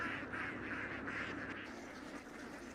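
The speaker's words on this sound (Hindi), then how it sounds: "अपीवात की बतखों के लिए यहाँ खाने के लिए बहुत कुछ है" A flock of ducks quacks steadily in rice paddy fields in Thailand, overlapping calls continuing without pause at a moderate, fairly close distance over a constant outdoor background.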